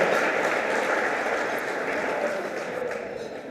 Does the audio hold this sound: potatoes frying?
no